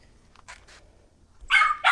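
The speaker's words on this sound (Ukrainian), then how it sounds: "Мені собака, звичайно, щось не дає, хоче вибігти і розідрати ці коробки." An indoor dog, eager to rush out and tear into delivery boxes, gives a couple of sharp, close barks near the end after a mostly quiet moment with faint stirring.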